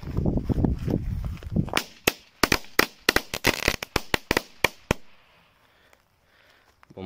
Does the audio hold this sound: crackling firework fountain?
yes